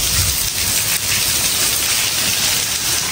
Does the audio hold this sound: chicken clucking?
no